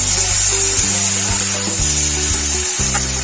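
Cumin, ginger and dried red chillies fry with nearly cooked tomato in a pan, a steady loud sizzle filling the whole stretch as the mix is stirred.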